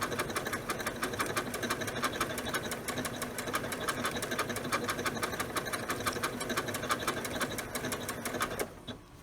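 A Janome sewing machine with a stitch composer hums steadily and stitches in a fast, even mechanical rhythm, close and continuous, until it stops just before the end.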